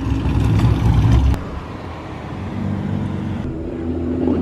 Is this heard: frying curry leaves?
no